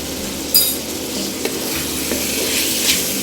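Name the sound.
frying meat with spices while stirring (bhunai)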